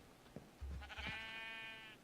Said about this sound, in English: the two sheep are trying to go through the door at the same time